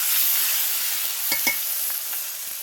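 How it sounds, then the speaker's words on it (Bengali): Onions fry in oil for a chicken curry, making a continuous close, bright sizzle with a couple of quick scraping stirs in the middle. "দিয়ে পেঁয়াজটা আমি ভালো করে ভাজা করে নেব।"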